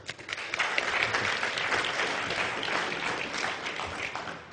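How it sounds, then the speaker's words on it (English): An audience at a talk bursts into loud applause for the speaker, many hands clapping together in a thick, sustained wash that eases slightly near the end. "so give him a big round of applause."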